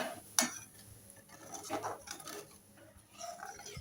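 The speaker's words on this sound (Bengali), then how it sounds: "এবার আমি আলুটা ছেড়ে দেবো।" Potatoes dropped into a pan of curry with a little gravy for aloo dum, one sharp clatter followed by soft scraping and shuffling of a spoon against the pan, faint and close.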